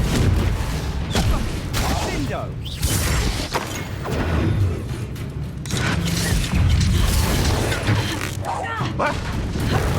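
Confringo spell explosions in Hogwarts Legacy, a steady barrage of loud, crashing booms and bursts with mechanical clatter, repeating in waves across ten seconds of combat.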